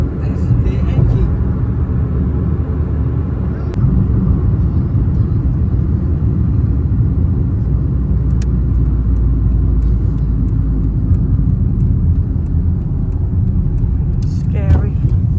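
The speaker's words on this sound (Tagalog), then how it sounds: "What is that noise coming from your car?" A strange noise from a car, a steady low rumble running the whole time with faint higher tones, and people talking over it.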